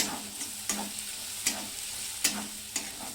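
A mixture with turmeric being stir-fried in a pan while the cook prepares egg bhurji, soft sizzling under a series of sharp spatula scrapes and taps recurring roughly every second, close by with no talk.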